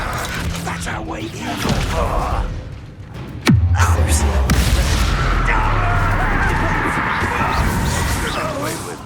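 A blasting spell explosion in the video game Hogwarts Legacy, a sudden loud boom partway through followed by a sustained rumbling, crackling tail, with softer game sounds before it.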